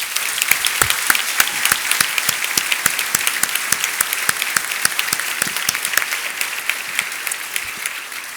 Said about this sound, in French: Je vous demande ainsi un tonnerre d'applaudissements pour toutes les équipes de TSM.